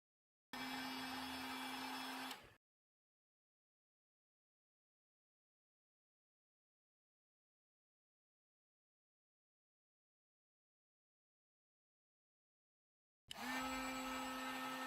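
A heat gun blows hot air to soften the screen adhesive on a Google Pixel 2 XL during a display replacement, a steady close whoosh with a low hum, sounding for about two seconds, then silence, returning near the end.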